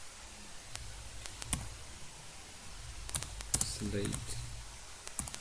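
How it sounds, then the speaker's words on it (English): Light clicks of typing on a computer keyboard at a desk while building a text box in PowerPoint, scattered keystrokes in short runs under a person talking. "Then I will just type here"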